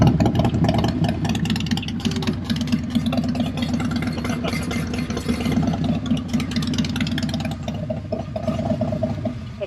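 A 2024 Harley-Davidson CVO Street bagger engine idles loudly and steadily up close in a garage with no exhaust pipes fitted, a rough, rapid, uneven putter, no voices, a raw unmuffled rumble throughout.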